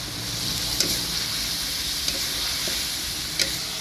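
Blended spice paste frying in a pan for curry-leaf fried stingray, a steady close sizzle broken by a few soft stirring scrapes of a spoon, with no talk.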